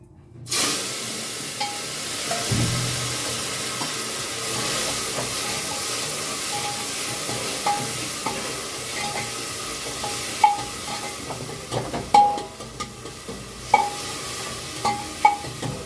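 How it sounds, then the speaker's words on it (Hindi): Tomatoes dropped into hot oil with cumin and asafoetida start a sudden burst of sizzling that settles into a steady fry, punctuated later by several sharp spoon clinks against the pan. "टमाटर डाल दिया हमने फ्राई करने के लिए।"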